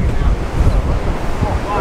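Ocean surf washes against a fishing pier in a steady, loud roar of breaking waves, with gusty wind buffeting the microphone throughout.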